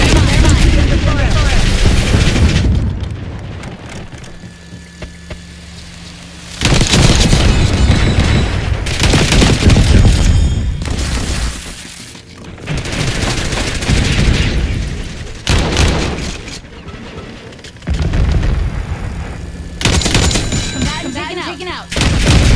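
Gunfire and explosions in Call of Duty Black Ops 6: loud bursts of shooting and heavy blasts come in waves with brief lulls, and voices speak over the combat at times.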